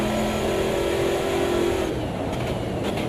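Race car engine in the Automobilista 2 racing game holding a steady, loud drone that shifts in pitch partway through as the car accelerates out of a corner, continuous throughout with no talking.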